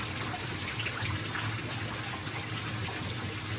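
Heavy rain from Tropical Storm Hilary pours down in a constant, even wash of water, with runoff gushing beneath the downpour and no voices.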